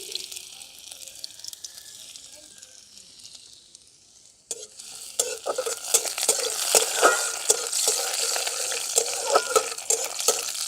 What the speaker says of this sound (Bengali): সেই আদাগুলো দিয়ে দিচ্ছি